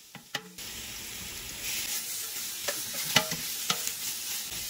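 Meat sizzles in hot olive oil in a pan, a continuous crackling hiss broken by several sharp spatula clinks and scrapes, close and moderately loud.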